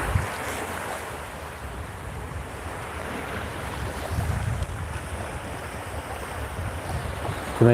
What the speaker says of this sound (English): Hear the ocean.